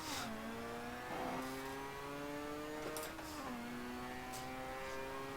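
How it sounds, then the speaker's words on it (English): A single-turbo rotary race car revs hard while burning its rear tires, a steady rising engine whine that shifts pitch in steps with faint squeal bursts over it. "Burn those rear tires."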